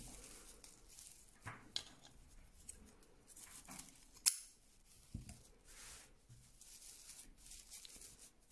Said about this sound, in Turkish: şöyle iplerimi kesiyorum.